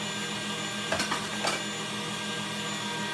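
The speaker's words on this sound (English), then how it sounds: "you can hear the whisk slow down" An electric whisk beating meringue with a continuous buzzing hum, close and steady, brief clatters about a second in, the motor tone easing slightly toward the end.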